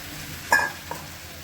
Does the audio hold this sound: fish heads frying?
yes